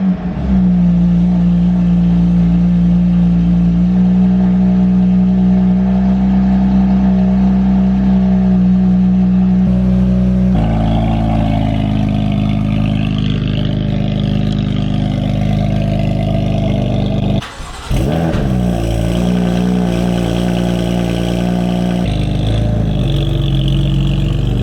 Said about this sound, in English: the footage of me starting the car up for the first time with the resonated section on and then going for that initial cruise